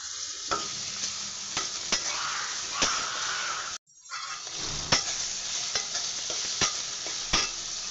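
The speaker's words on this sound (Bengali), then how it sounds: "পেঁয়াজ রসুন কুচি দিয়ে দিলাম।" Chopped onion and garlic fry in a pan for a chicken and papaya curry, giving a steady close sizzle with occasional stirring scrapes and a brief gap midway.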